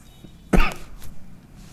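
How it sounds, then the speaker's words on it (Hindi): A single sharp, loud cough bursts out, followed by quieter room noise and a faint second catch of breath. "थोड़ा तेज़ खांसी आ गया था"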